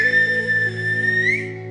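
A whistled language of the Canary Islands, Silbo, carried in one long sustained whistle that glides and rises near the end, clear and fairly loud with no talk over it.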